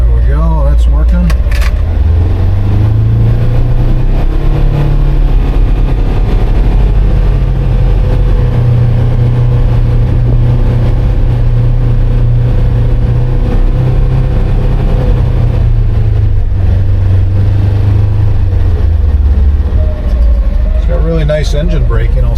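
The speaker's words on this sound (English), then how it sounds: "Nice engine braking, I'll say that, coming down the driveway." A Polaris Ranger XP 1000 NorthStar Premium side-by-side rolls down a driveway under engine braking, its engine droning loud and close with pitch shifts, while someone talks over it.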